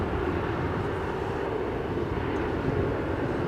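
An aircraft arrives at Edinburgh Airport, a steady broadband jet roar heard from a distance, continuous and even throughout with no talk.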